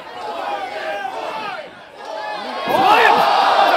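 A capacity crowd at an outdoor wrestling show in the Waldorf parking lot chatters steadily, then swells into louder cheering and shouting near the end, with individual voices calling out over the mass of sound.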